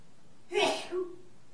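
A single short sneeze, sharp and close, with a brief voiced tail after it, set against a quiet background.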